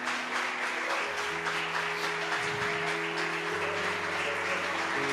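Congregation applauding in a church service, a dense sustained wash of clapping with steady tones from instruments playing underneath throughout.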